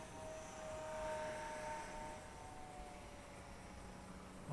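Eachine Mini P47 500mm RC model airplane flying overhead under dark clouds, a thin steady motor whine with a tonal hum that drifts and fades slightly as it passes, fairly faint against outdoor background.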